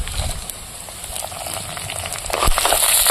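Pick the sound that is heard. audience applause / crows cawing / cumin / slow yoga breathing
cumin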